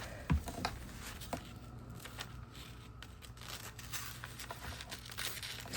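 Scissors cut a paper design out of a larger sheet for a metal bucket project, giving soft close snips and crinkling paper rustles in an uneven rhythm with a few light taps.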